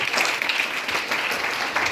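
A crowd claps vigorously in a dense, continuous patter for a couple of seconds at a talk on Ayurvedic products.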